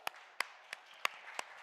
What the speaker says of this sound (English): Let's give San Diego State University a big round of applause